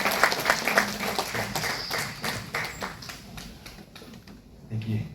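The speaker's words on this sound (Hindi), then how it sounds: "एक जोरदार तालियां पत्री सर के लिए।" An audience at a spiritual talk breaks into clapping, brisk and crowded at first and then thinning into scattered claps that trail off, with a short burst of voice near the end.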